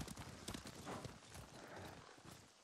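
Horses trotting along a forest path in the video game Ghost of Tsushima, rhythmic hoof clip-clops with a soft rustling bed, fairly close and continuous, no talk.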